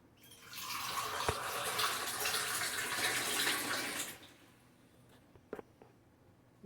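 Water pouring steadily from a cup into ragi flour while mixing thattai dough, a close, continuous splashing gush lasting about four seconds, followed by a few faint drips and knocks.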